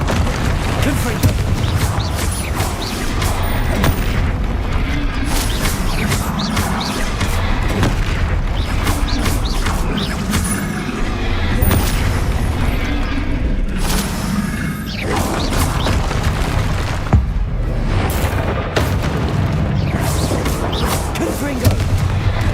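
Repeated Confringo blasting-spell explosions in the Hogwarts Legacy video game, loud booming blasts and crashes in dense, overlapping succession over a busy game soundscape.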